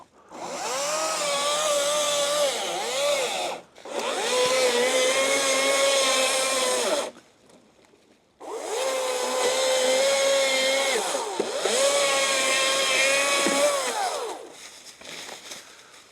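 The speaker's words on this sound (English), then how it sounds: "Before y'all go making fun of my electric chainsaw, you guys need to back up on that." An electric chainsaw cuts up a tree with a loud, steady whining buzz in long sustained passes. It drops to a brief idle lull between passes, with no voices over it.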